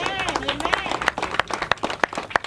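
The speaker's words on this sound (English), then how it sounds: "Let's give Senator Sims a round of applause" Audience clapping for a senator at an outdoor community event, scattered claps under a voice talking over them across a short stretch.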